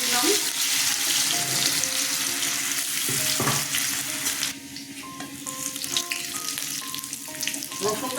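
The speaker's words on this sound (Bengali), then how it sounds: "আমি রসুনটা ফোড়নে দিয়ে" Garlic dropped into hot mustard oil in a kadai fries with a steady, loud, dense sizzle that runs the whole time, with some clinks and background kitchen sounds partway through.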